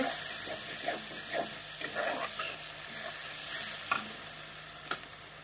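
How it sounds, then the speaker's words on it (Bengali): Chopped tomatoes dropped into spice masala cooked down in oil, frying with a steady sizzle, stirring scrapes and a couple of sharp utensil knocks against the pan. "মশলাটা কষানো হয়ে গেল, এখন তেল ছাড়তে শুরু করে দিয়েছে। এখন টমেটোগুলোকে দিয়ে দেব।"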